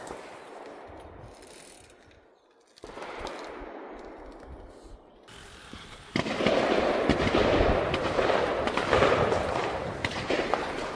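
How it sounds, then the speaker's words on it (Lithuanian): Distant popping bangs and crackling gunshots in the background near Jašiūnai, Lithuania, heard while cycling, with steady wind rumble growing louder toward the end. "Girdit, šaudo."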